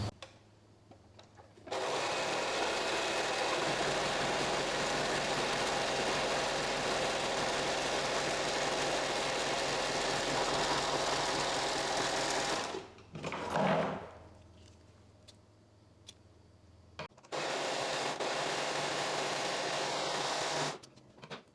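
An overlocker stitches the side edges of dress fabric with a long, steady mechanical whir. It stops briefly partway through, then runs again in a shorter final burst, heard close up with no speech.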